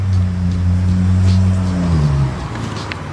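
A car engine runs close by while someone works on a car outdoors, giving a steady, loud low drone with a slight rev that drops in pitch near the end.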